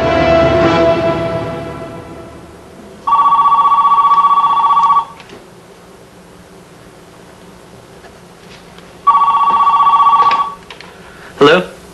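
A cell phone rings in two loud, evenly spaced bursts of electronic trilling, with quieter background sound between them and a short sharp noise near the end.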